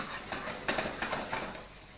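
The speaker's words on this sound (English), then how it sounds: "Making sure I'm moving the pan. I always like to shake my pan, okay?" Vegetarian bolognese sizzles in a pan that is shaken and stirred, giving a soft frying hiss broken by several quick scraping, rattling bursts at close range.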